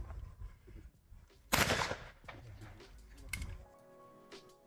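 Shotgun blasts at a clay shooting pool shoot, with two sharp loud reports about two seconds apart over outdoor background noise and faint voices.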